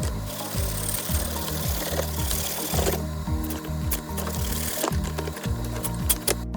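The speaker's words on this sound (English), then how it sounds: "Cut off the excess brass rod." Brass rod being cut off during assembly of a DIY modern wall coat rack, with steady rhythmic rasping strokes repeating about every half second, close and fairly loud, and no talk.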